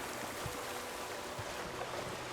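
In Horizon Forbidden West, a waterfall gives off a steady, fairly quiet rushing wash with a few low thumps underneath and no talking.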